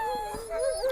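A Yakut laika hunting dog gives a brief, wavering howl, close and fairly loud, with its pitch rising and falling.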